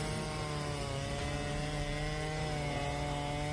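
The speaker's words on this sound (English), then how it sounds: "Felling a tree with a chainsaw is a task that requires precision and high skill." A chainsaw engine drones steadily and faintly in the distance while felling a tree outdoors, a continuous buzzing whine with no pauses or breaks.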